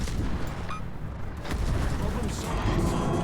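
Naval guns firing in World of Warships on the Stord '43 destroyer, a steady barrage of booming shots rolling under continuous battle noise, with someone talking over it.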